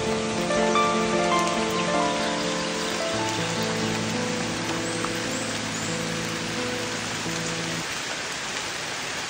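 Steady summer rain falls over Daryuk wetland, a dense continuous hiss of drops with sustained tonal layers beneath, close and even throughout with no voices.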